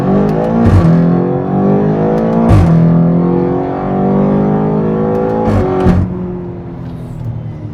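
A 600-horsepower 2017 BMW X5M pulls hard after a downshift, its engine note climbing loud and close in strong harmonic sweeps, with brief shift breaks as revs drop and rise again.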